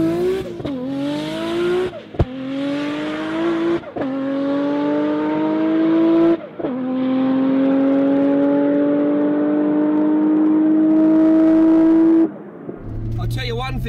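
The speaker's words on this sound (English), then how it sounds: "the extra grip causes the car to bog, so we needed some more revs" A Nissan R32 Skyline GT-R on drag radial tyres revs hard in repeated rising surges during a launch, climbing in pitch through each gear, loud and close, and then cuts off abruptly near the end.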